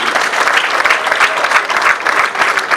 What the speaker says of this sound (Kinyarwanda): Ndagira ngo mumpere amashyi mwese, aba abanyeshuri n'ababyeyi.